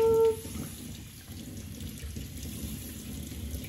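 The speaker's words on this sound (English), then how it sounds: "let's rinse you off one last time" Water runs from a kitchen faucet into a baby bath set in the sink while a baby is rinsed, a steady moderate splashing and gurgling flow following a brief tonal beep at the start.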